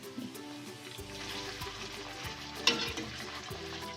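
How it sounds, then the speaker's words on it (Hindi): Capsicum frying lightly in oil for fried rice, a steady sizzle with occasional stirring scrapes and a sharp clink near the middle, close and alone without talk. "शिमला मिर्च को भी इतना ज़्यादा नहीं फ्राई करना, हल्का सा ही करना है"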